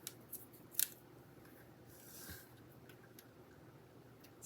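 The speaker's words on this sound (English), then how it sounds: "This is the 2023 snips. They still work fine." Snips cut ribbon with a couple of quick, crisp close clicks early on, followed by softer faint rustling in a quiet room.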